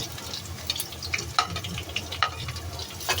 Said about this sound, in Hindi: तो ऑयल मेरा गर्म हो चुका है, तो लें जी, सबसे पहले इसमें जाएंगे प्याज